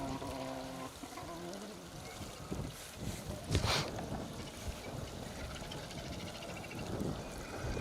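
Wind buffeting a microphone beside a Welsh asphalt rally stage on a bright day, a constant broadband roar with a stronger gust near the middle and no clear speech.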